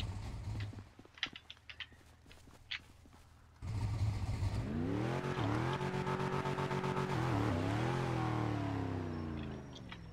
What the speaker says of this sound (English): Alright, do your burnouts.